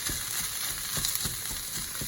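Ground turkey browns and crackles in a hot pan, a steady broadband sizzle with soft thumps of a utensil breaking up clumps at a regular pace, close and moderately loud, no talking.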